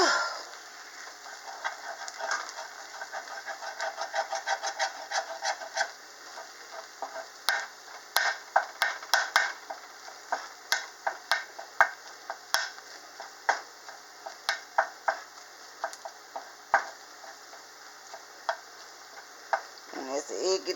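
Egg frying in a hot pan while making beef fried rice: a continuous bright sizzle with rapid crackling pops and occasional scraping of a utensil, close up, with no talk.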